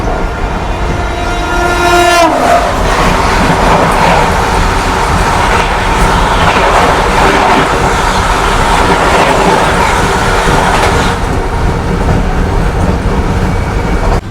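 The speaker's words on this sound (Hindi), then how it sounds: "अभी अपनी क्रॉसिंग होने वाली है नांदेड़ से अमृतसर चलने वाली सचखंड एक्सप्रेस के साथ" Sachkhand Express from Nanded to Amritsar crossing a moving Vande Bharat near Hetampur station, a loud horn blast at the start, then a sustained close roar and rattle of passing coaches that eases near the end.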